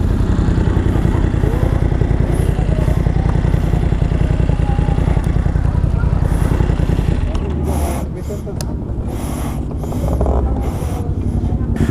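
Several big bikes from an enthusiast riding group roar past on a morning ride at Sitio Baag, a loud continuous engine drone with clatter that shifts and dips partway through as the machines pass close by.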